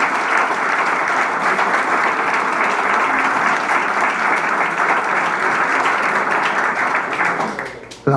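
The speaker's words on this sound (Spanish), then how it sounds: "La aplauden más que yo," An audience at a book presentation breaks into loud, sustained applause, a dense continuous roar of clapping that holds steady for about eight seconds before tapering off near the end.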